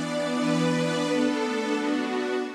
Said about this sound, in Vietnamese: Rồi, tiếp theo đó là tiếng string.